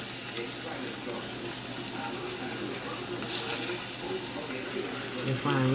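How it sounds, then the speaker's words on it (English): Steady sizzling of fish frying in a pan, a constant crackling hiss with some kitchen clatter, no talking. "They're frying really good."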